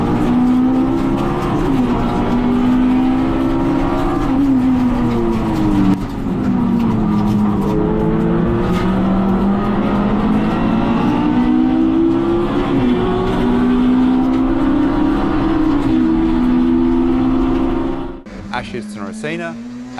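Race cars lapping the Bathurst circuit in an IPRA race, a loud, continuous engine drone that rises and falls through gear changes before cutting off abruptly near the end, with a voice talking over it.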